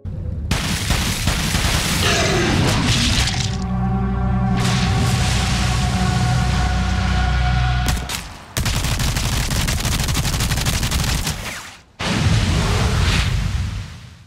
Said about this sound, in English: the first thing I did was shoot the lake from the dock